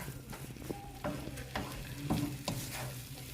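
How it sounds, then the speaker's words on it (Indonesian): A spoon scrapes and taps against a teflon pan as a lumpia filling is stirred, with a steady frying sizzle underneath and no talking. "Jadi ini kan di teflon gitu. Oke, kita aduk rata."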